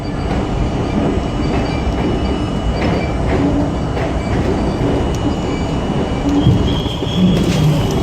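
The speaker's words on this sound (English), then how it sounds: "we'll get to see the A train come in" An NYC subway A train pulls into the station with a loud, sustained rumble of wheels on rails, rattling clatter and a few brief squeals as it nears.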